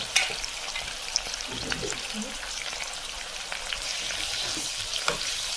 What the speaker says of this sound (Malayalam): നമ്മൾ ആവശ്യത്തിനുള്ള ഉപ്പ് കൂടെ ചേർത്ത് കൊടുത്തതിന് ശേഷം നമ്മൾ ഇതൊന്ന് ഇളക്കി റെഡിയാക്കുകയാണ്